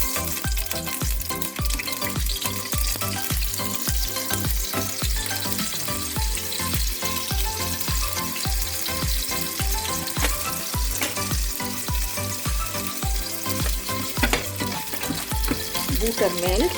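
Oil and butter sizzling steadily in a pan while cooking biryani, a dense continuous frying hiss with rhythmic stirring or scraping clatter throughout, close and loud.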